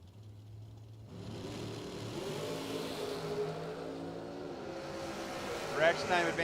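A bracket racing dragster launches down the drag strip at a bracket racing event. The engine roar builds and holds steadily, with voices over it.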